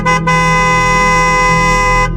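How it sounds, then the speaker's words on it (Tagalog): A loud, long bus horn blares almost without a break, cutting out briefly near the start and then sounding steadily until it stops. "Isang mahaba at malakas na busina ang umalingaw-ngaw sa madilim na kalsada."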